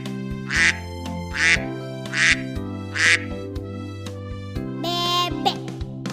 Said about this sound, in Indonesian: gambar binatang yang bunyinya wek wek wek